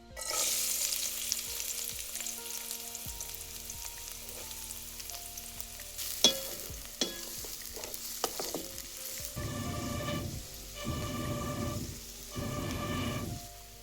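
Onion sautéing in hot oil in a pan crackles and sizzles steadily, with a few spatula knocks and stirring scrapes, then bursts of louder spitting near the end, close and unaccompanied by talk.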